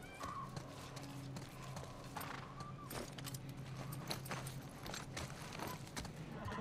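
Horse hooves in a video game, The Last of Us Part I, clip-clop at a steady walking pace, with a brief whinny near the start and faint ambient sounds around them.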